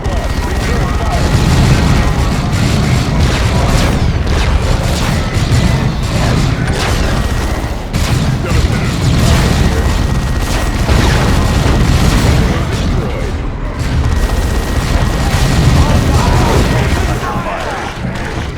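Warhammer 40,000: Dawn of War II Chaos Rising battle with a tactical squad: dense, continuous gunfire and heavy booming explosions roll on without pause, loud and close, with shouted voices buried in the din.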